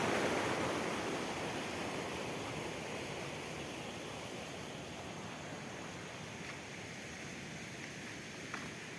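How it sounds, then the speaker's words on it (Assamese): A small stream rushes steadily just before it joins a big river. The broad, even water noise holds at a moderate level and fades slightly over time, with no voices. "এইটো টাৰ্ণিং পাৰ কৰিলেতো ডাঙৰ নদীতে জইন কৰিব এইটো নালাটো"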